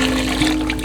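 Chicken broth pours in a steady, close splashing stream into a soup pot, brief and continuous with no talking.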